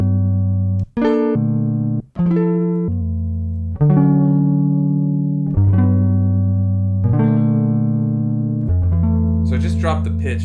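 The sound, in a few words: pitched-down ambient guitar samples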